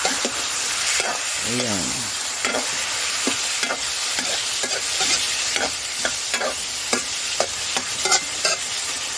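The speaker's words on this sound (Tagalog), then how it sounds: "Haluin natin mga kapilingon." Chicken afritada being stirred in a pan outdoors in the countryside, a spoon scraping and clacking against the metal in repeated strokes over a steady sizzle, with a brief spoken word at the start.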